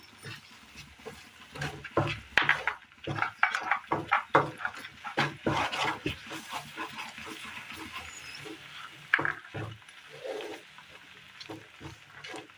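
Sugar and milk powder stirred into mango semolina in a pan: irregular, fairly close scraping and clattering strokes, bunched in quick runs with short gaps.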